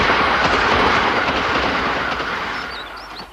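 A train rumbles past close by, loud and steady with rhythmic wheel clatter, fading slightly toward the end as faint squeals appear.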